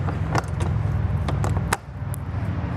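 On a 2026 Cimarron Norstar Warmblood two-horse straight-load gooseneck trailer, a window is pushed shut with a few rattling clicks and a firm closing knock, over a low steady rumble.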